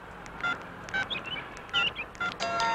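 A telephone number is keyed in on a phone in a film scene, giving a quick run of separate beeping dial tones spaced unevenly, clear and close with no talking.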